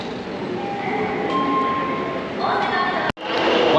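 A Japanese metro train travelling from Osaka to Kyoto rumbles along steadily with a continuous loud roar, faint wheel whine and a brief cut near the end, with people talking over it.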